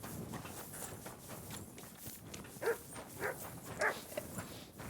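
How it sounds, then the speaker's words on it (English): A dog in the medieval game Kingdom Come: Deliverance II gives a few short barks or sniffing yelps at mid distance, spaced irregularly over a busy ambient background with faint footsteps. "That's not my dog."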